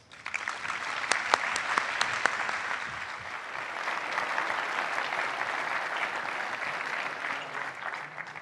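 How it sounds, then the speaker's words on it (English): Audience applause at a luncheon event in Austin: a roomful of people clapping steadily and fairly loudly, with a few crisp nearby claps early on, sustained for the whole stretch before fading slightly at the end. "I want to give a big Austin round of applause for Melrose"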